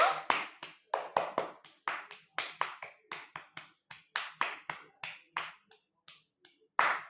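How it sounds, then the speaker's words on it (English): Children clapping their hands for a classroom winner, irregular bursts of sharp claps with brief gaps, close and clear with no talking over them. "All clap hands for Bablu."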